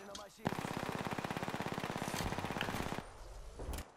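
Rapid automatic gunfire in the video game Apex Legends crackles in one dense, evenly spaced burst lasting about two and a half seconds, loud and close.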